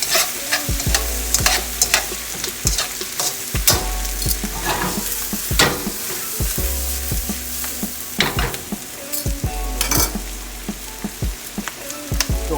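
Bean sprouts for sweet and sour chicken are stir-fried in a hot pan, sizzling steadily with repeated scrapes and tosses of the utensil cutting through, close and fairly loud.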